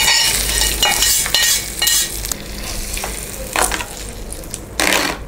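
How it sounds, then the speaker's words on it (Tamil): Tempering of curry leaves and a dried red chilli stirred into curd rice in a pan, with loud, close scraping and stirring strokes over a light sizzle and occasional clinks of a spoon, no voices. "இப்போ நம்ம இதை ஆஃப் பண்ணிவிட்டு தயிர் சாதத்தை கூட மிக்ஸ் பண்ணிக்கலாம்."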